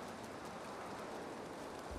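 Steady rain hissing in the Valheim game world, a continuous broadband wash of drops that stays even and fairly faint throughout, with no voices over it.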